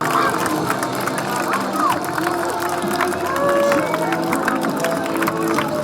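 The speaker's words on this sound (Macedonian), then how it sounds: "Шампионките беа бурно поздравени од своите врсници, кои се аплаузи ги пречекаа" Young peers greet handball champions with a loud, continuous roar of crowd cheering and applause, a steady wash of voices and clapping with shouts rising above it.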